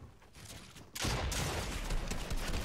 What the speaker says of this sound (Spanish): Uy, no salió ese escopetazo.